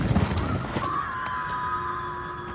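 Horses at a Hollywood ranch: a brief whinny rises over a dense background of rustling and hoof noise, fairly faint and muffled, with a tonal hum lingering afterward.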